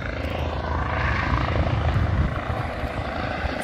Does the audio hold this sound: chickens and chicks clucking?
no